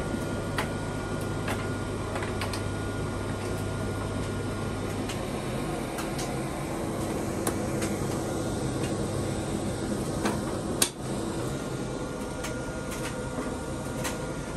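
A condenser tumble dryer runs on a low-temperature setting, giving a steady mechanical hum and whir with light, irregular ticks and taps from tumbling laundry, plus one brief knock near the end.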